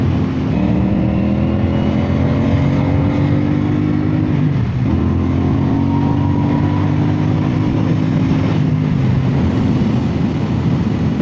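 A CFMOTO 450SS motorcycle with a tuned ECU cruises along a road, its engine droning steadily close up, the pitch dipping briefly at a shift around midway before climbing again under wind noise.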